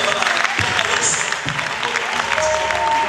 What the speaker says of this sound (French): Voilà les amoureux de Jésus qui acclament très fort pour Yahweh